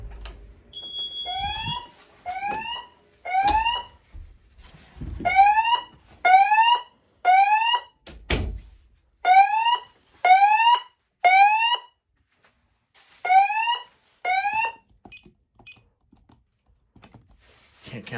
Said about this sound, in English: There we go, fire alarm canceled.